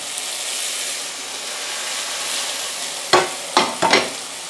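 Garlic, onion, ginger and a little coriander sauté in a pan over a very low flame, a soft steady sizzle that ends with three louder clanks of a stirring spoon.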